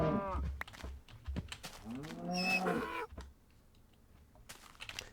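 Cows moo in Minecraft Wonderland.Jar, several loud drawn-out bellows close together in the first three seconds, then quieter background sounds from the game.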